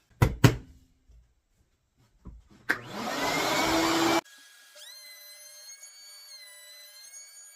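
A corded Woodstarter hand planer runs over maple: a few sharp knocks, then a loud whirring cut of about a second and a half, followed by the motor's higher tonal whine spinning down.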